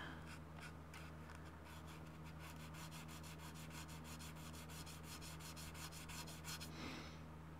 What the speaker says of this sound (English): I'm gonna take 1000 grit sandpaper and just kinda create some abrasion going on